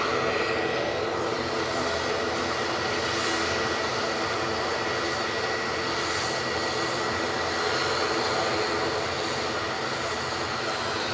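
An Embraer jet airliner at Edinburgh airport gives a loud, broad, roaring jet noise that stays steady and dense for the whole stretch, with no voices over it.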